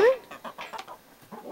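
A Brahma hen in a coop gives a short run of soft, close clucks, a few quick notes in a little over a second, with no other sound around them.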